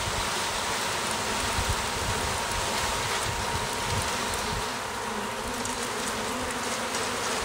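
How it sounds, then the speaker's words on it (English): Honeybees shaken from a box into a hive give off a dense, continuous buzzing hum that stays close and steady throughout, with no talking. "now I'm going to turn this box upside down and shake out the bees into the hive."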